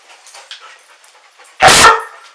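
A search dog inside a house, heading toward the basement, lets out one loud, close bark after a stretch of faint snuffling and movement, then goes quiet again.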